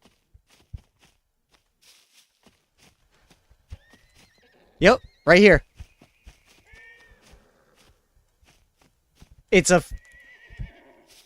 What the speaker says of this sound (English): I hear a horse nearby.